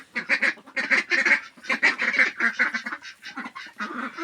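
Loud, close quacking of an Indian Runner duck in quick bursts, several calls in a row with brief pauses between them, no talking.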